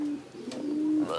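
A pigeon coos softly at close range: a low, steady, drawn-out hoot with a short break in the middle and a faint chirp at the end, with no voices.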